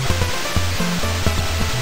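A steady rushing waterfall hiss in Castlevania III on the NES, constant and loud, with a low looping chiptune bass pattern thumping along underneath.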